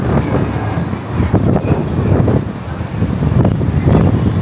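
Strong wind buffets the microphone on the coast in Dalian, China, a steady loud rushing roar with gusty swells and low rumbling throughout, no speech over it.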